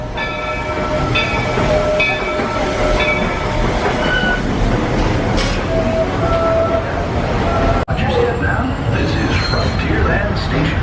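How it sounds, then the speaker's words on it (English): A Disney World railroad train heading to Frontierland rumbles along with steady wheel clatter and squeals, heard from on board, with people talking over the ride and a brief jolt near the end. "We're gonna hop on the train, take it to Frontierland"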